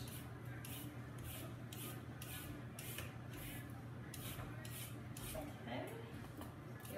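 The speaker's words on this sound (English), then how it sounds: "remember you need to peel your carrots. Just going to use a vegetable peeler for that." A vegetable peeler scrapes down carrots in a kitchen in a steady series of quick, evenly repeated rasping strokes, quiet and close, over a low background hum.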